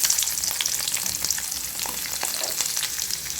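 Garlic, mustard seeds and a dried red chilli frying in hot oil in a pan for a pickle: a loud, close, continuous sizzle with crackling pops and some stirring.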